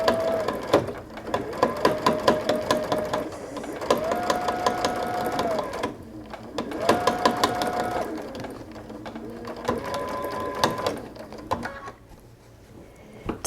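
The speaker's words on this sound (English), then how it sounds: "Make sure you stitch on that inside folded line like you did on the other piece of bias tape, and stitch slowly around." Sewing machine stitching bias tape around a baby bib, running in repeated bursts of steady mechanical whirring with short pauses between runs, fairly loud and close.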